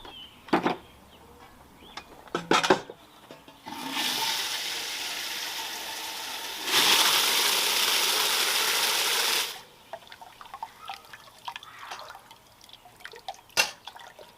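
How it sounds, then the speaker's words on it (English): Small water pump running while submerged in a little water during garden work, giving a steady rushing, bubbling hiss that swells louder for a few seconds before cutting off, framed by scattered drips and handling clicks. "what we're going to do is we're going to submerge this into a little bit of water"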